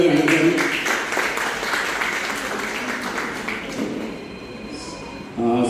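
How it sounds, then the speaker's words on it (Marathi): Audience clapping at a blood donation and medical camp event, a steady dense round of applause that continues for several seconds, then tapers off as a voice begins speaking at the end. "आपण जोरदार टाळ्या वाजवूया मॅडमसाठी."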